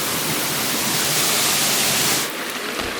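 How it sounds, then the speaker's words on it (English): Waterfall in Portugal roaring as a steady, dense rush of water, close and continuous, with no voices over it. "Wow, sorry, it's a waterfall."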